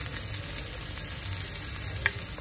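Dried red chillies, bay leaves, panch phoron and ginger paste frying in hot oil, giving a steady close sizzle with a couple of faint ticks and pops, no voices.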